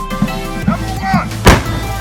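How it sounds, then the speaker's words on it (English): A historic gun fired at Sovereign Hill, Australia, as part of a firing sequence: one sharp, loud blast rings out amid nearby voices and background murmur. "Firing in sequence from the left."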